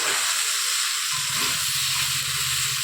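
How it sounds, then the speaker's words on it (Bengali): Taro stolons frying in a pan with coconut and shrimp, a steady loud sizzle and hiss throughout with faint scraping from stirring partway through. "এভাবে নেড়ে নেড়ে আস্তে আস্তে করে ভেজে নিতে হবে"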